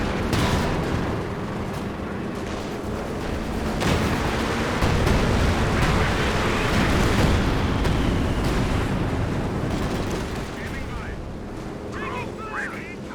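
Artillery shells and a bombing strike land in a Company of Heroes 2 match, booming explosions and crackling gunfire layered under continuous commentary, with a sharp blast near the start and heavier rumbling through the middle.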